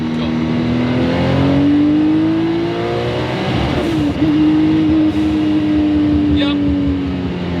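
An 850-horsepower Gunther Werks Porsche 911 Turbo pulls hard in third gear, its engine note climbing steadily in pitch, loud and close from inside the cabin, with a brief shift-like dip midway.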